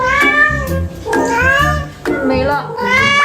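A pet cat meows repeatedly and insistently early in the morning, with loud, close, drawn-out cries in quick succession, some whiny and rising, with no other sounds competing.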